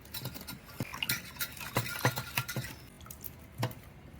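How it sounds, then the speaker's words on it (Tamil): A tomato is squeezed by hand into tamarind water, making soft wet squelches and irregular splashy patters, close and quiet, in an uneven rhythm for about four seconds. "சரி, தக்காளி ஒன்று கரைக்கிறேங்க."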